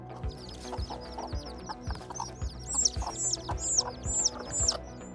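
A mother hen clucks and calls in short repeated bursts while guarding her chicks from a cobra, with chirps layered over a steady rhythmic thumping background.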